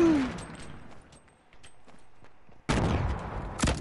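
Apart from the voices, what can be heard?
gunfire in Fortnite: Battle Royale video game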